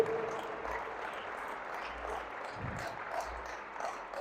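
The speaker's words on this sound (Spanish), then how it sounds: "Denle un fuerte aplauso al Rey del Rey" A church congregation applauds, a steady patter of many hands clapping at moderate distance that continues for about four seconds.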